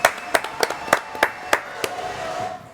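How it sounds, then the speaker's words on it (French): Applause for a man named Tony on a French talk show: a series of sharp, loud claps in irregular rhythm, fading into a low room hum by the end. "On applaudit Tony quand même."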